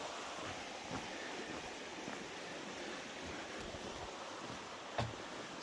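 A rain-swollen river rushes past in a steady, broadband wash of flowing water, constant and moderately loud with no voices.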